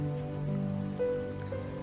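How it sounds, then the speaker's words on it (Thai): Rain falls steadily on a spring morning garden in Japan where roses grow, making a continuous patter on surfaces at moderate loudness, with a few faint tonal sounds over it and no talking. "ฝนตกอีกแล้ว"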